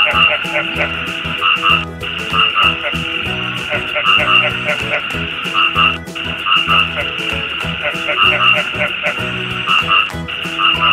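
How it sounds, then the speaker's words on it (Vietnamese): A frog croaks repeatedly in a children's animal-recognition piece, the steady rhythmic calls sitting over a dense, continuous musical backing at fairly loud level. "Con ếch."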